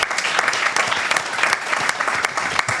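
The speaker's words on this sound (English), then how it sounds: "Give yourselves a round of applause." A room full of people gives themselves a lively round of applause after a talk, with dense, crisp hand claps and individual sharp claps popping out, sustained and fairly loud throughout.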